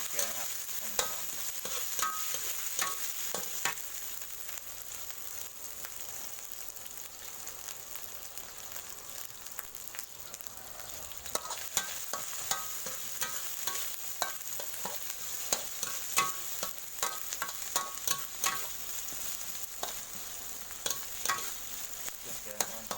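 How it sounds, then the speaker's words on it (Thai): Thai curry paste being stir-fried in a wok for a spicy frog stir-fry, a moderate steady sizzle broken by frequent clattering spatula scrapes and taps throughout, no talk. "ผัดเครื่องแกงครับให้มันหอม"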